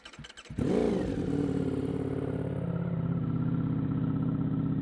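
A 2023 MV Agusta F3RR motorcycle engine catches after a few clattery sounds, then settles into a loud, steady, close-up idle with a throbbing low rumble.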